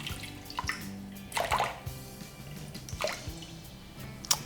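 Water poured into a bread machine pan sitting on kitchen scales, a quiet trickle with soft splashes and drips, heard close with a low background hum and no talk.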